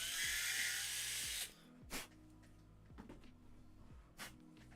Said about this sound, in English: The existing hole there, just going to open it up a little bit up to this 5mm drill.